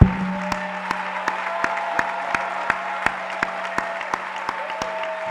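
A church congregation claps in steady rhythmic applause, sharp regular hand claps over a sustained crowd wash and a held tone, loud and continuous throughout with no clear talk.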